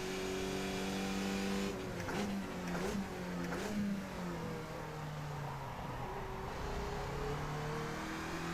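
Race car engine in the iRacing sim, a loud steady drone that drops in pitch under braking and then climbs again with harmonic whine, continuous and close.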